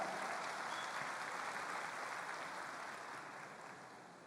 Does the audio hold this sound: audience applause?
yes